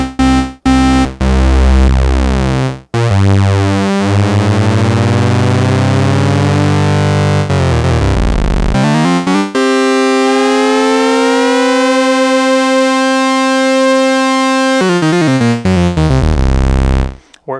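Moog Source synthesizer with its two oscillators combined, producing loud, sustained buzzy tones that sweep and glide in pitch, with beating between the oscillators and abrupt cuts between notes, alone without voices.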